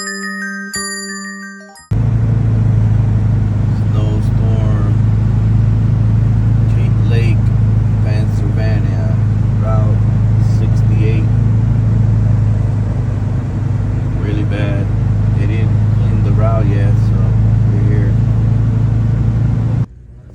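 Semi truck with a Landstar load creeping along at about 40 mph through a Pennsylvania snowstorm: a loud constant engine drone and cab hum throughout, with intermittent chimes and a person talking over it.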